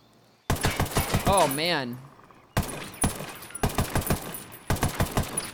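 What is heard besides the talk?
556xi assault rifle firing in Ghost Recon Wildlands video game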